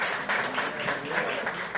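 A church congregation at a Portuguese-language service claps together for the pastor, a dense, rhythmic wave of hand clapping at moderate volume with no voices.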